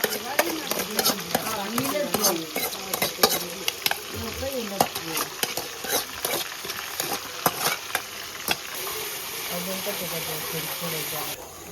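Onion going into a hot pan for a cashew-paneer curry and being stirred, with a steady sizzle under repeated scraping and clinking strokes while a voice talks over much of it.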